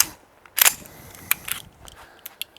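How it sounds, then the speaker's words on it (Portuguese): A handgun fires one sharp, loud report during a shooting-technique demonstration, followed by a few quieter clicks and metallic clatter from the pistol. "mais um disparo"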